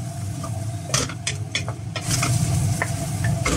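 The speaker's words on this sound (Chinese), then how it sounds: "一定要大火爆炒一下，" Handmade noodles stir-fried over high heat with greens, seasoning and chicken hearts in a wok, a steady loud sizzle punctuated by sharp spatula scrapes and clanks.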